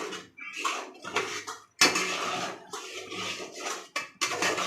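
Spoon or spatula scraping and stirring roasted dark masala for mutton in a metal pan, a run of irregular clattering scrapes and knocks, fairly close and moderately loud, with no talk.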